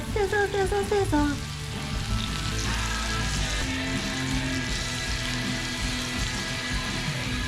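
Beef jerky sizzles while it cooks, giving a steady close crackle of frying that runs throughout, with a voice and a few musical tones near the start.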